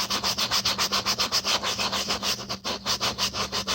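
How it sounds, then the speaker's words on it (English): Hard rhythmic scrubbing on a heavily soiled Birkenstock sandal being cleaned, with quick, even back-and-forth strokes of about five per second, close up and alone without talk. "get in there and really give it a scrub"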